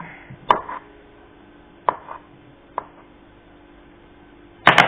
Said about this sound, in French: Vous prenez votre banane et vous la coupez en rondelles.